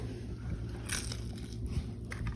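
A bite into a queso birria dish gives a single crisp crunch near the middle, close and fairly soft, set over a steady low background murmur.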